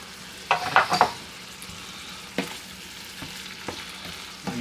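A spoon stirring nutmeg into bolognese sauce in a pan, with a burst of scraping near the start and then sparse single scrapes and clinks over a low, steady sizzle, no talking.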